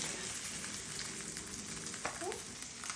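Bangus milkfish steak fries in a pan with a steady, dense sizzle that is fairly close and even, broken by a few sharper spits and crackles near the end.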